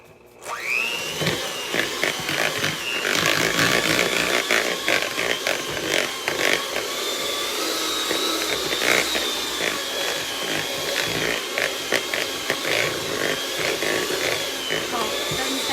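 A KitchenAid stand mixer beating Oreo cheesecake filling, a loud continuous motor whir with a rising pitch at startup, holding steady alongside rhythmic beater slaps against the bowl throughout.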